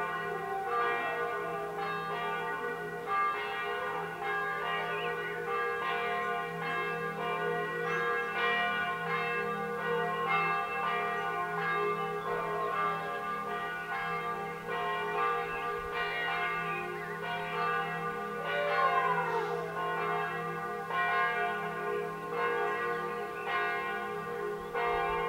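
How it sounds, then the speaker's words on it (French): Church bells ring continuously, overlapping peals with steady rhythmic strikes and a rich, sustained resonance, moderately distant. "Observez le temps du son des cloches."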